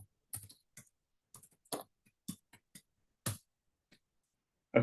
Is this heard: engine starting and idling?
no